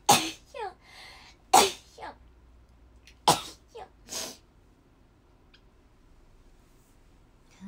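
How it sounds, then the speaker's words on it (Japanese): Three sharp sneezes burst out close up, spaced a second or two apart, each followed by a short breathy gasp. A stretch of near silence comes after. "くしゃみだけさせて。"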